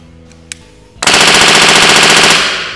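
An HPA airsoft replica fires a rapid burst of about 15 BBs per second after a couple of faint clicks. The rattling string of shots is loud and close and trails off toward the end.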